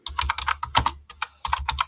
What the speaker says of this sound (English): then I can just start typing